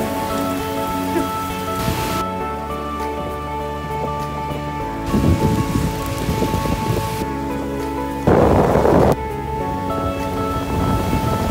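A storm in Bangkok, Thailand, brings heavy rain drumming steadily on surfaces, a dense, loud, unbroken wash with brief swells in intensity and no voices.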